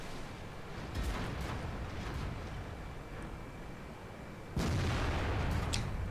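A tank cannon in a video game fires a gold round at an E-100, a heavy booming blast that hits suddenly near the end over a steady low rumble of battle.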